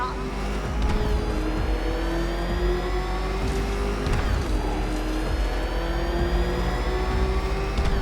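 Car engine in the Batman Arkham Knight video game, a steady droning hum that surges in revs around the one- and four-second marks, with game voices or music mixed beneath it throughout.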